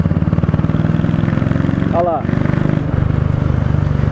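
A Royal Enfield Meteor 350 motorcycle idles with a steady, even thumping exhaust beat close by, while someone talks over the running engine.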